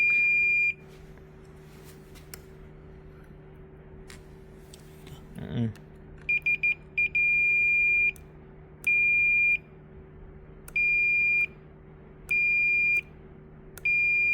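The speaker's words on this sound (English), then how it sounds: "put the multimeter into the continuity mode and check" A multimeter set to continuity mode emits steady electronic beeps of about half a second to a second each, repeated several times over a low hum while a vein finder main board is tested; a brief handling noise occurs midway.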